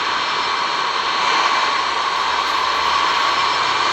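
Airplane N251CV landing at Tan Son Nhat airport (VVTS) in a flight simulator game, a steady loud jet engine roar and rushing air, continuous and unbroken with no voices.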